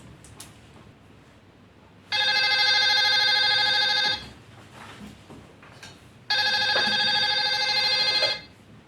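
A telephone rings in two long electronic bursts, each about two seconds, separated by a short pause with faint background noise.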